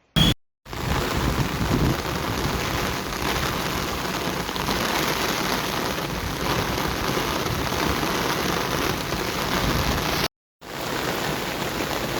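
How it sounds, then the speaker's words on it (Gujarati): Heavy rain pours down across Surat district in Gujarat, a loud, continuous, even roar of falling water with a possible low rumble of thunder, unbroken for several seconds apart from brief cuts at the start and near the end. "હાલમાં પણ જિલ્લામાં સાર્વત્રિક વરસાદ ચાલુ છે"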